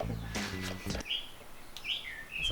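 Loud birds chirp and tweet in short, bright bursts close by outdoors, following a few low thumps and rumbles at the start.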